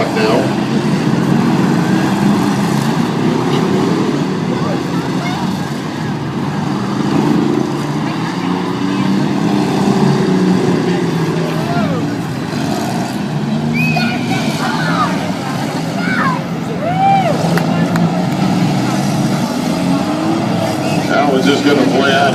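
Demolition derby cars at the 2013 Erie County Fair produce a loud, continuous engine roar with revving surges and scattered metallic screeches, crowd noise and arena din blending throughout.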